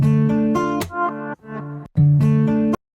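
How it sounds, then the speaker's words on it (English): An unprocessed electric guitar plays clean, dry chords in short bursts with brief gaps between them, near and moderately loud, with no talking over it. "the main pad was made out of the original guitar stem right here"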